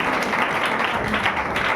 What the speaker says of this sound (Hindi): जोरदार ताली मारकर हम पवित्र आत्मा का हम धन्यवाद करें।